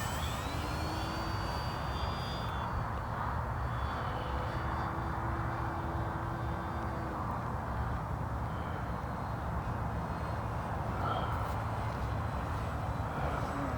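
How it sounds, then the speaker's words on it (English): A radio-controlled model propeller airplane drones steadily at a distance overhead, its engine pitch shifting slightly as it passes, with continuous outdoor breeze noise. "Really nice flying plane."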